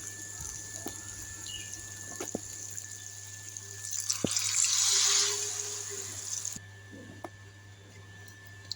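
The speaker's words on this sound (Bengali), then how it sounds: "এবার আমি পরিমাণ মতন জল দিয়ে দেব।" Water poured into a curry of potato, soya chunks, dal and vegetable stalks, a steady splashing pour that swells in the middle and then stops, alone and fairly close.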